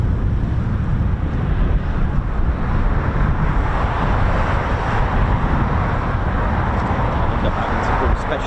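Steady, heavy wind rumbles and buffets the microphone throughout, a constant broad roar with no pauses, at an RAF airbase.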